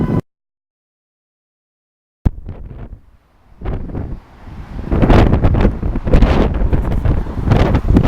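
A strong gale blows across a bridge over the Thames in London, with gusty, rumbling wind buffeting the microphone loudly after a brief silence, building in force toward the end.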